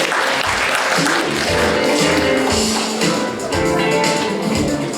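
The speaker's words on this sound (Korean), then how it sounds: "여러분은 힘찬 박수로 축하해 주시기 바랍니다." Loud, dense audience applause fills a Korean award ceremony for Tuberculosis Prevention Day as a hospital receives a commissioner's commendation, steady and sustained throughout with no break.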